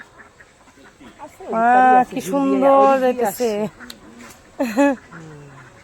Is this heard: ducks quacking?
yes